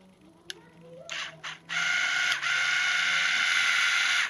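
A Clearview towing mirror actuator motor, run from a dodgy 12 V bench power supply, whirs in short bursts and then a sustained steady drone, with faint clicks before it starts.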